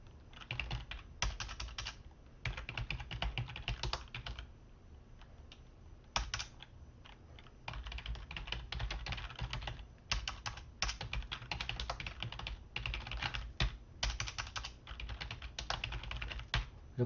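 Steady clicking keystrokes on a computer keyboard, typed in irregular bursts with brief pauses while someone writes a post in a discussion board, fairly close and alone with no talking.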